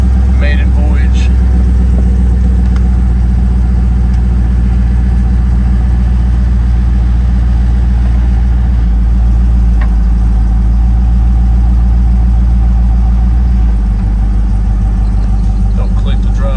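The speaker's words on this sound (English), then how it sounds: "we're gonna fire it up and see if we can put it around the block" A 1964 Impala's engine rumbles steadily while the car is driven, a loud, deep drone that holds for the whole stretch with only slight shifts in pitch and a few faint noises from outside.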